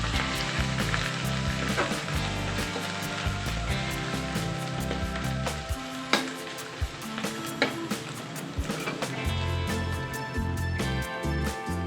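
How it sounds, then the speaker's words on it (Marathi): A ground masala paste sautés in hot oil in a pan, giving a dense, steady sizzle and crackle from nearby, broken by a few sharper spatters and clinks as it is stirred. "याला सुद्धा तेलावरती छान परतून घेऊया"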